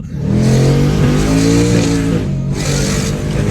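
A twin-turbo Ford Mustang GT engine revs hard and close, climbing and holding a loud, rising roar. After a brief dip it surges back up again, and there is no talking.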